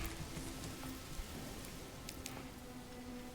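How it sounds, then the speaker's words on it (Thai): Rain falls steadily in the Manor Lords village-building game, a soft continuous patter at low level with a faint droning tone underneath and no speech. "ตอนนี้ฝนตก"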